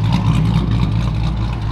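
A 5.7-litre V8 in a 2007 Chrysler 300C revs loudly and close by, a deep steady rumble with no talk.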